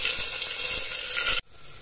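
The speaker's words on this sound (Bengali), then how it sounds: "এখন তেজপাতা আর শুকনো লঙ্কার ফোড়ন দেব" Bay leaves and dried red chillies sizzle loudly in hot oil for chicken kosha, a close, bright continuous frying hiss that cuts off abruptly to a much quieter background, with no talk.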